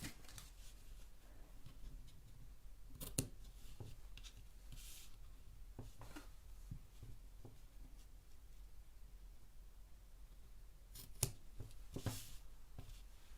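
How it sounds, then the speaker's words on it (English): Scissors trim a ribbon bow on a handmade Easter card with a few quiet, brief snips and rustles spread across a mostly soft, quiet stretch. "Trim the bow."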